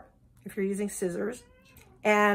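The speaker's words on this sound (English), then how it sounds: "sorry, that was my cat" A house cat meows several times close by, short rising cries with one louder call at the end, mixed with a person speaking.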